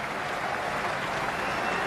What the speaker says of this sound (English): standing and applauding a magnificent display of batting